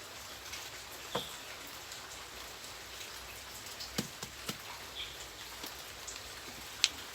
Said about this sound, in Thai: วันนี้ฝนตกดีมากเลย ฝนตกเยอะมาก